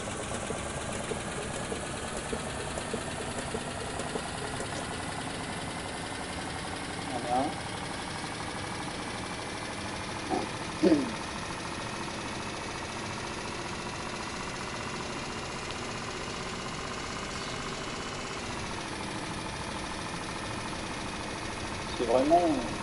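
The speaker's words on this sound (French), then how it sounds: "Même au son du moteur, franchement, voilà, ça fait un peu vieillot." An old bus engine runs continuously in a countryside bus-driving video game, a low steady drone with slight pitch shifts, while someone talks over it throughout.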